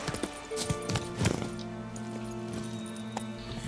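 Horse hooves in The Witcher 3 clip-clop in a quick, even trot, close and clear, with a brief whinny-like snort and game ambience behind them.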